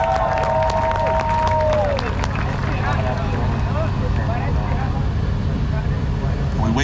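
Crowd cheering and applause for riders Trevor Jameson and Jimmy Oaks during runs at the LZ Invitational, a dense, steady roar of voices and clapping throughout, with a brief tonal whistle early on and chatter mixed in.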